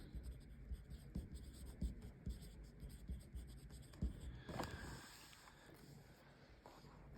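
Pen writing on paper while working a maths exam question, heard as soft, irregular scratchy strokes close by with brief pauses and light handling noise.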